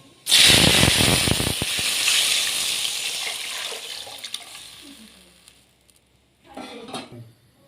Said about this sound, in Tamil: நம்ம ஆல்ரெடி கரைச்சி வச்சுருக்கிற புளி, தக்காளி கரைசலை இதோட ஊற்றிக்கணும்.